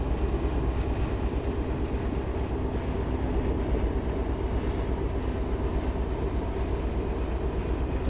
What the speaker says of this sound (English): So I've just shut off the power at this point to allow the train to coast